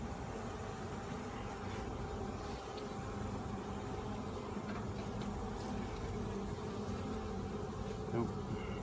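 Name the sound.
honey bees buzzing around a hive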